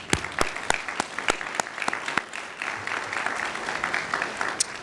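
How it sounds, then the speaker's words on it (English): Applause at a college athletic hall of fame enshrinement luncheon, starting with several sharp, loud individual claps near the listener and then settling into a steady, fuller round of clapping from the room. "May we give him one more round of applause"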